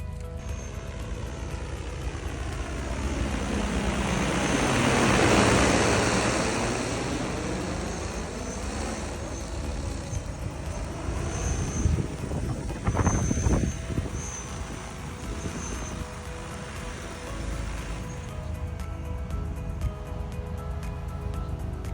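A small aircraft engine drones steadily in flight over farmland, swelling louder midway as it passes close, then settling into an even, continuous hum with brief rattling bursts.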